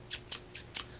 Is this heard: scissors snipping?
yes